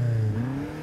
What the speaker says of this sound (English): So I'm going to rev this thing up.